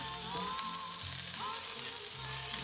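200 grams of mushrooms fry in a pan and get stirred, a steady close sizzle with a few scraping stirs, no talking.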